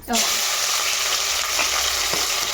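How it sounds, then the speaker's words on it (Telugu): Onion and green chillies dropped into hot oil, setting off an immediate loud, steady sizzle that continues close up, with occasional faint stirring knocks beneath the hiss. "ఇక్కడ ఆయిల్ పెట్టుకున్నాను కదమ్మా కాగింది ఇప్పుడు ఉల్లిపాయ పచ్చిమిర్చి కూడా వేసేస్తున్నా"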